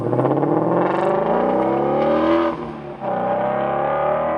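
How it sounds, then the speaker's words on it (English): A 2016 Shelby GT350's flat-plane-crank V8 revs hard with a smooth, high-pitched rising wail, briefly dropping off before climbing again, loud and close. "the flat plane crankshaft combined with our exhaust manifolds and the vehicle exhaust system provides a very, very unique sound"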